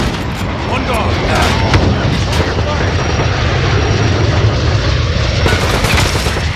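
A precision airstrike in Modern Warfare on PS5: a loud, continuous roar of aircraft passing overhead, mixed with heavy booms and gunfire, while voices call out over the din.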